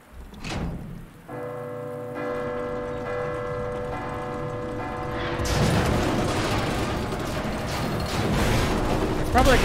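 In Resident Evil 2, a large bell tolls with a sustained ringing hum that swells and lingers, joined later by a dense, rain-like rush of noise.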